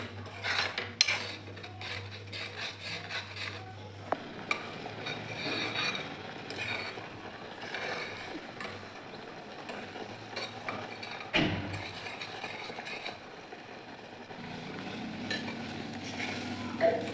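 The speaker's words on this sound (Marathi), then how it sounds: "व्यवस्थित मिक्स करत राहायचं जोपर्यंत आपला कैरीचा कलर बदलत नाही आणि थोडं घट्टसर होत नाही" Thick raw mango candy mixture stirred in a pan, giving soft continuous scraping and rubbing with light clinks of spoon on metal, steady and close throughout.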